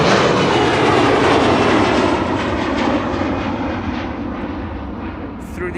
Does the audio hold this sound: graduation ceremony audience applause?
no